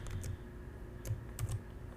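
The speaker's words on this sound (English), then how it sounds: "let me type" Fingers typing on a computer keyboard during network configuration work, producing a few soft, close key clicks in short irregular bursts over a quiet background, with no talking.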